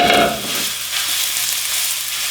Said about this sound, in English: we're going to put our meat in because we want to